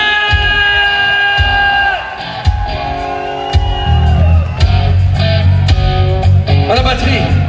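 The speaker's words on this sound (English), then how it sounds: "On applaudit bien fort, Jérôme" Concert audience cheering, whooping and clapping as band members are introduced, with a shouting presenter over loud live music at a rock band's show; crowd noise swells and stays dense throughout.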